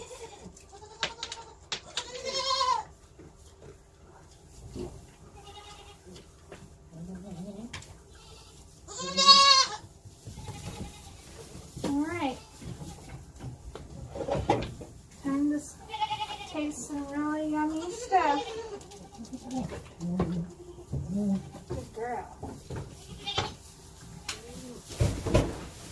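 Goats in a farm pen bleat repeatedly in loud, wavering cries, one especially strong burst partway through, mixed with clattering knocks and people talking nearby.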